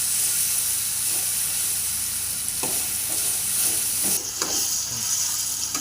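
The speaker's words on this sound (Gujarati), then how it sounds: "આપણે એને સરખી રીતે મિક્સ કરી દઈશું।" Ripe banana curry is stirred in a hot pan, giving a loud, constant frying hiss with a few soft scrapes and knocks of the spoon against the pan.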